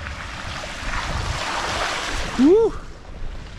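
A bicycle rolls through a shallow mountain stream on the Baja Divide Cape Loop in Mexico, a steady rushing splash of water under the tires, ending as a rider lets out a short excited whoop.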